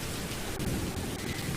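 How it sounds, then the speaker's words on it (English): Heavy rain pours in a steady, dense hiss during a storm, with faint low rumbling beneath and no voices. "The storm seemed to be picking up a bit, though."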